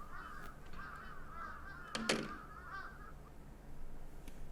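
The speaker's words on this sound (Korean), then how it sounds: "까마귀 개 많아 여기야" Crows cawing in the horror video game Akai Onna, a run of repeated harsh caws at moderate distance over a quiet background, interrupted by one brief loud clatter.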